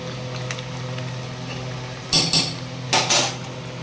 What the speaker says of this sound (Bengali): এবার এটা ঘি দিয়ে নাড়াচাড়া করে নামিয়ে দেবো